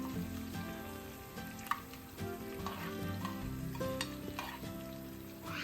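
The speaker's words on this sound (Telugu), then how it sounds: "ఆ రైస్లోకి ఇది కలిపేస్తున్నానండి పోపు." A spoon stirs a fried tempering with peanuts into rice in a pan, with steady scraping and a soft sizzle, close and fairly quiet.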